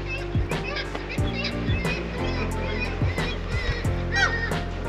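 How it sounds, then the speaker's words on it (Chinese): A flock of seagulls calls loudly by the sea in Norway's Lofoten Islands, repeated harsh honking cries overlapping close by, with people's voices mixed in. "对，这里的鸟有点大声。"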